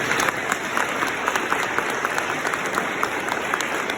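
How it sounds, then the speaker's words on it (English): A crowd at a Race for the Cure 5k event claps for the race volunteers, with loud, dense and continuous applause and some crowd noise mixed in. "Let's give them a round of applause."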